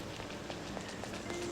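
Steady rain hiss from the Persona 5 video game, a soft continuous wash of falling drops with faint patter, fairly quiet and unbroken throughout.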